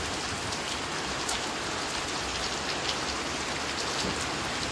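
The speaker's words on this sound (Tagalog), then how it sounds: "It's raining at last." Heavy rain falls steadily in Sindangan, Zamboanga del Norte, as a dense, even hiss of drops striking surfaces, close and constant, with no voices.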